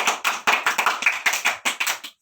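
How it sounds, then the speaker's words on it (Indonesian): Classroom students clap their hands in a short, uneven burst of roughly a dozen distinct claps, close and fairly loud, with no talking over them. "tepuk tangan dulu buat semuanya."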